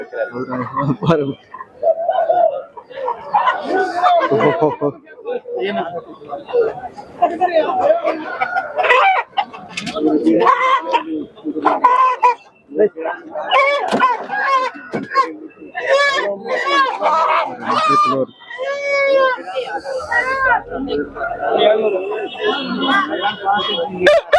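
Chickens and roosters at the Kundrapalli poultry market in South India cluck and crow continuously nearby, under and between people talking.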